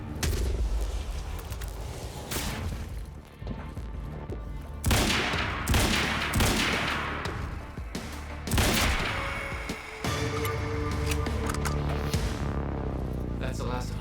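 Carbine rifle gunfire from the video game Quantum Break: bursts of shots and sharp impacts recur across the stretch, loud and close over a steady low game background, with a brief lull near the middle.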